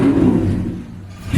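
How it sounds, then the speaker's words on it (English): A cold car engine being revved in a garage, a short rise in throaty rumble that drops away and then swells again near the end, close and fairly loud, with no talking. "Go ahead and give it a couple revs"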